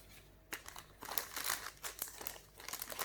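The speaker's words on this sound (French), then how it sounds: "donc je vais remettre ça dans sa pochette" A handmade scrapbooking card crinkles as it goes back into its plastic sleeve, with close, quiet bursts of crisp plastic rustling coming in uneven pulses.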